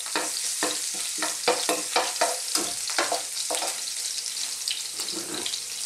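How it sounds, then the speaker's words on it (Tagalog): Garlic frying in rendered fat for pancit habhab, a steady crackling sizzle broken by a quick run of rhythmic spatula scrapes and taps against the pan, close by with no talking. "So, ang susunod natin gagawin, maglalagay tayo din ng bawang."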